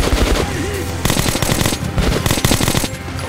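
Heavy machine gun fire in the video game Metro: Last Light hammers out in loud, rapid bursts with brief gaps, each volley dense and close.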